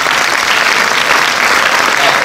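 Steady, dense applause from a cinema audience at a Paris film premiere for La Daronne, loud and continuous without a break for the full stretch.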